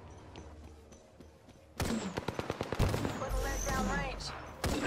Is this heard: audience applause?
no